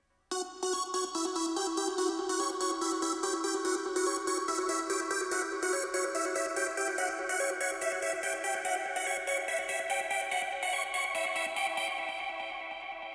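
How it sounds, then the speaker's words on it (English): A bright synth arpeggio passes through a phaser, so its rapid repeating notes sweep and swirl as the pattern runs. It plays steadily and alone, then fades slightly at the end. "That transforms again with the phaser into something that sounds like this."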